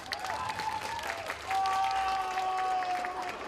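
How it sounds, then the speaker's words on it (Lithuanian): A theatre audience gives sustained applause in tribute to the director Miltinis: dense, continuous clapping at an even level that swells slightly partway through, with a faint tonal voice or sound running beneath it. "Aplodismentai jam"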